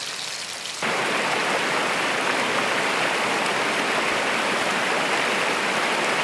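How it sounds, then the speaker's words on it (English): A mountain creek rushes over a small waterfall at the bottom of a dark creek bed. The water starts a little softer, then becomes a loud, steady, close-up roar that runs on without a break and with no voices. "this is what the creek sounds like. There's the little waterfall over there."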